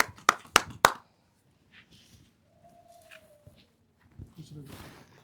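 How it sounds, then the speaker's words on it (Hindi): Three sharp hand claps ring out close and loud in quick succession, then give way to quiet background sounds and scattered speech. "ताली बजा दे।"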